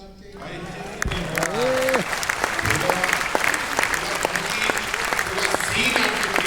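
Audience clapping at a Hindi kavi sammelan poetry gathering in Rohtak, a dense sustained round of applause from a crowd that swells after a second and continues steadily, with a voice speaking over it near the start.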